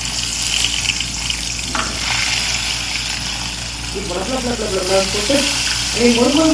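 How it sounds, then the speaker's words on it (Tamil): Anchovies for a chilli fry go into hot oil with a loud, steady sizzle and bubbling, while a voice talks over the cooking throughout. "நெத்திலி சில்லி ஃப்ரை பண்ண போகிறேன் அப்படியே எடுத்து போட வேண்டியதான் ஆயிலில் போடும்போது கொஞ்சம் பார்த்து போடணும்"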